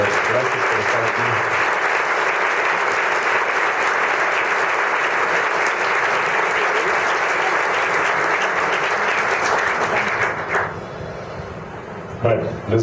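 An audience gives sustained, loud applause at a book presentation of short stories, a dense steady clapping that tapers off near the end.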